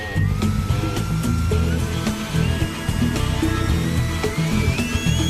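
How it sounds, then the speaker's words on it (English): A model jet fan motor powers up at a test station, its rising electric whine climbing steadily in pitch and staying loud throughout, mixed with a continuous music bed. "It's now time to power up this motor at a test station."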